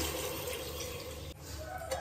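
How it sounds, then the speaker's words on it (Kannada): Water poured from a glass into a cooking pot for rice, a steady soft splashing stream that runs throughout at low level with no voices. "4-5 ಗ್ಲಾಸ್ ನೀರು ಹಾಕೊಳ್ತಾ ಇದ್ದೀನಿ"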